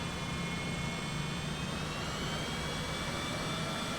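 Cessna Citation CJ4 jet engine spooling up in Microsoft Flight Simulator 2024, a steady broadband roar with a thin high whine layered on top, holding even and close for the whole stretch, no voices.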